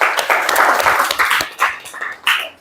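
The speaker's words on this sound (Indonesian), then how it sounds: "tepuk tangan" Classroom clapping from students in a lesson, a burst of several hands beating in loose, uneven rhythm, fairly close and loud, with a few shouted voices mixed in.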